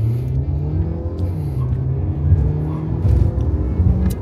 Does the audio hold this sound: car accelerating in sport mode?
yes